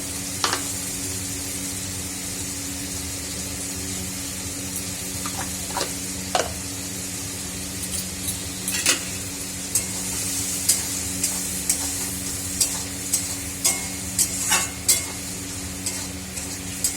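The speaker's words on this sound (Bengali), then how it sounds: "ভাজা ভাজা হয়ে যাবে মশলাগুলো।" Oil sizzles steadily in a pan as spices fry with turmeric, while a utensil scrapes and clinks against it now and then, the stirring growing busier toward the end.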